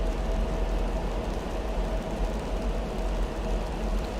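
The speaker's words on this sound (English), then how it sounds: "I really wish that rain sound would go away. I've been listening to that for over 2 hours. It just won't stop." Persistent rain sound effect in a Zibo 737 flight simulator stuck by a glitch, a steady, dense hiss of rain on the airframe, continuous and even with no letup.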